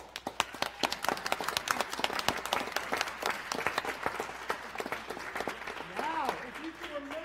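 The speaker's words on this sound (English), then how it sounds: "I just want to give a round of applause to everybody" A student society audience at a university pie-a-professional event claps in a loud, dense burst of sharp individual hand claps, with cheering voices rising near the end.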